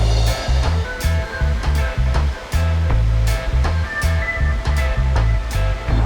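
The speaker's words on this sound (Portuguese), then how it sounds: "olha o tamanho dessa queda" A large waterfall in Santa Catarina, Brazil, roaring as a dense, continuous rush of falling water heard close up, with occasional louder bursts and low rumbling gusts, no speech.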